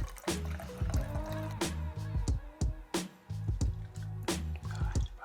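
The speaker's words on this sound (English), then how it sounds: "I'm going to pour it into my cocktail glass." A Corpse Reviver No.2 absinthe cocktail is poured into a cocktail glass, giving close wet squishy drips and trickles in short bursts with brief pauses.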